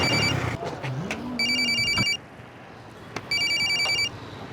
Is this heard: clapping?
no